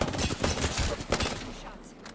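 Rapid bursts of gunshots in a video game, loud and close, firing in quick clustered volleys before trailing off, with some talking mixed in.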